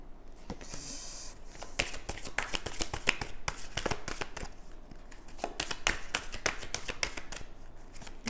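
Tarot cards are shuffled by hand in a steady run of crisp riffling and slapping, close and fairly quiet, with no talk over it.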